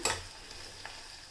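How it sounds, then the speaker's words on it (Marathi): Green chilies frying with onion in a pan for dal khichdi give a steady, soft sizzle, with a louder burst of stirring at the start and a few faint scrapes afterward. "आता आपण ह्यामध्ये मिरची घेतलेली आहे, मिरची सुद्धा आपल्याला चांगली शिजवून घ्यायची आहे।"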